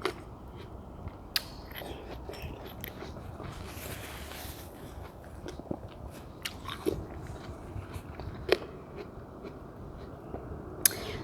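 Biting and chewing watermelon, with sharp crunchy bites scattered over a steady close-up wet chewing texture, quiet overall, no talking.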